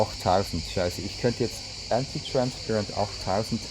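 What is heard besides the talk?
crickets chirping outdoors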